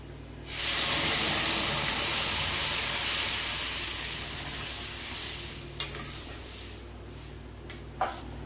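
Dal being tempered with spices in hot oil, the sudden burst of loud sizzling settling into a steady hiss that slowly fades, with a couple of brief clinks or splashes near the end.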